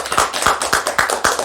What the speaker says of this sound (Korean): 우리 감사와 영광의 박수 드립시다.